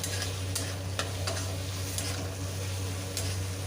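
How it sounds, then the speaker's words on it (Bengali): Salt being stirred into spices frying in a pan, a continuous loud sizzle with occasional scraping strokes of a spoon against the pan, close up with no voices. "নুন দেওয়ার পর আবার একটু নাড়াচাড়া করে নুনটা মিশিয়ে দেবো"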